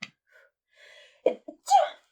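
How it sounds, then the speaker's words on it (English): A single sharp human sneeze on a city street, preceded by a few faint breathy catches and ending in a burst; close and fairly loud against near silence. "And I'm about to sneeze."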